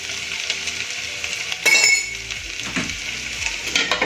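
Turmeric and Kashmiri chili stirred into vegetables in a hot pan for a Gujarati shaak, sizzling under brisk scraping strokes and a few metallic clinks of the spoon against the pan, close up with no voices.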